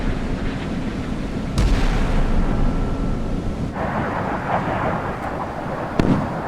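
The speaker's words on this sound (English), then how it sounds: "Naval gunfire, not missiles." Heavy booming naval gunfire in the game Sea Power, a US Ticonderoga cruiser against a Soviet Sovremenny destroyer, rumbles continuously, with deep blasts layered over a dense roar and a few sharper cracks near the end.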